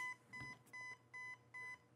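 Four short electronic beeps in a steady rhythm from a Rossi Neptune 10" Plus airsoft gun's internal electronics signalling four-shot burst mode, faint over a low background hum, with a soft click near the start.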